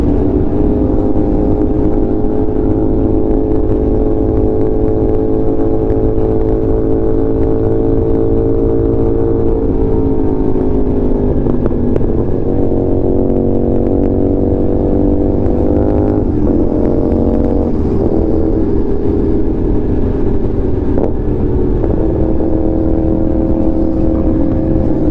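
A motorcycle with a full exhaust and catalytic converter deleted revs loudly on a night ride, its deep engine note climbing and falling through several throttle blips, close and dominant throughout with no voices.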